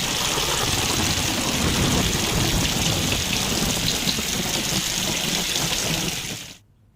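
Monsoon rain arriving in Gujarat falls as a dense, even hiss of downpour with a close watery patter for several seconds, then cuts off abruptly, with no voices.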